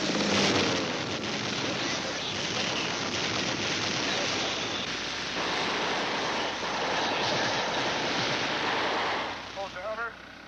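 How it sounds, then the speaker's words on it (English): Steady, dense engine roar of a helicopter overhead throughout, with a broad rushing drone that eases near the end. "A second helicopter scouts for danger, ready for close-in fighting."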